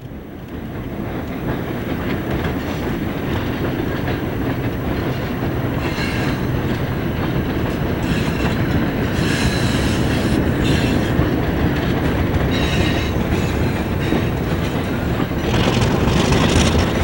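The Chaleur passenger train runs along a railway line on the Gaspé route, giving a steady, loud rolling rumble with continuous clickety-clack of wheels on rails throughout and no talking.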